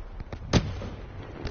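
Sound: grenades firing and exploding in Call of Duty: Black Ops 2 video game

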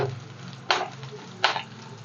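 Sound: ingredients frying in a pan for rasam

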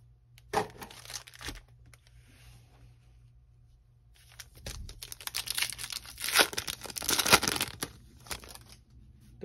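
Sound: tearing open 2021 Bowman Chrome trading card packs

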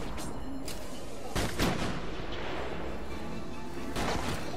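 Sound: sniper gunfire in video game Arkham City

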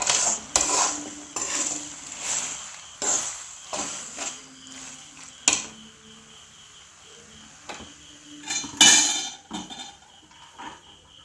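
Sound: stirring pasta with masala in a pan

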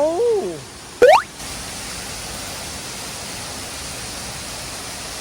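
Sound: waterfall in a rainforest

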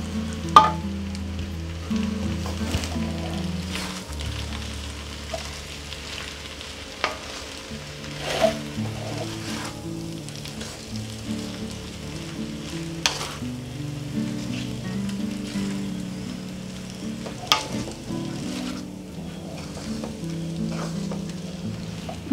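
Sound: tossing hakka noodles with roasted garlic in sizzling pan

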